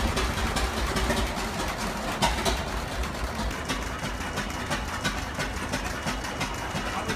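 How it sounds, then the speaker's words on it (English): A 1930s Hall Scott 6-cylinder four-stroke railcar diesel power unit of about 200 horsepower, driving a generator, runs steadily indoors at an engine exhibition, giving a dense rumbling clatter with rapid rhythmic knocks. "Built by Hall Scott, this 6-cylinder railcar diesel power unit dates to the 1930s"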